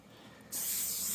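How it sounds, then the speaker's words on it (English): An aerosol can sprays onto an Oklahoma Joe Longhorn reverse-flow smoker, bursting into a loud, steady, close hiss after half a second of quiet background. "Now that you know, spray this carefully."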